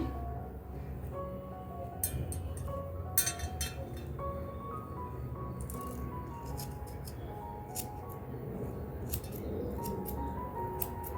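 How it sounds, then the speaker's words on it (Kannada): Scissors snipping off loose extra thread while making a decorative saree tassel, a few sharp metallic clicks scattered over a steady background hum. "ಹೀಗೆ ಎಕ್ಸ್ಟ್ರಾ ದಾರನ ಕಟ್ ಮಾಡ್ಕೋತಾ ಇದ್ದೀನಿ"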